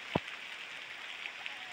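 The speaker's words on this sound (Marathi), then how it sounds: "आता परत एकदा काम करायला घेतला आणि परत एकदा पाऊस पडायला लागला" Rain falls outdoors in the Konkan countryside as a soft, even patter. One brief knock sounds near the start.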